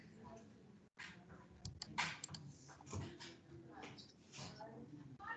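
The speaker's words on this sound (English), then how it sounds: "You're typing, typing." Keys clatter in quick, uneven bursts of typing on a computer keyboard, faint and close, with people talking over it.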